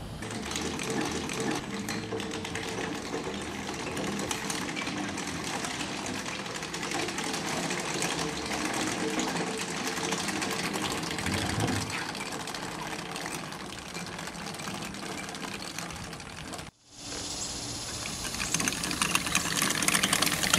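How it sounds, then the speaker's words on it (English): A GOAT 22X slope mower with its mowing attachment runs on a steep ditch incline of about 35 degrees, giving a constant loud mechanical drone with rattling blades that cuts out briefly near the end and then resumes. "We are going to test the GOAT 22X with its mowing attachment for the first time on a very steep incline."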